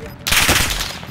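Gunfire in Call of Duty: Modern Warfare erupts as a sudden dense burst of shots after a brief quiet moment, loud and close.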